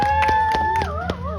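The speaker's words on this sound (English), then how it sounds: "Let's have an applause" A magic-show audience gives a short burst of scattered claps mixed with a high, gliding whoop or whistle.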